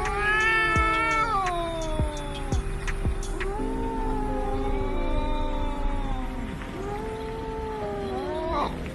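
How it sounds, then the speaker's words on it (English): Cats fighting let out long, warbling caterwauls and yowls that rise and fall in pitch, loud, close and continuous over several seconds, with overlapping howls and no speech. "cats are not only communicating with each other during fights"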